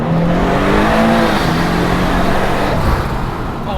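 A twin-turbo Datsun 240Z on its stock exhaust accelerates hard from inside the cabin, a loud, steady engine drone with rising tones that holds for several seconds.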